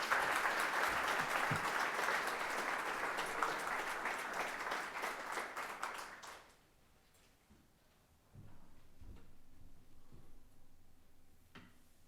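Audience applause welcoming Minister Johan Van Overtveldt at a Chicago Council and CFA event: steady, full clapping from a crowd for about six seconds, then fading to quiet room noise with a few faint scattered claps and shuffles.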